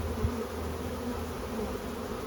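A swarm of honeybees hums in a steady, dense drone just outside a hive, the buzzing continuous and even with no voices over it.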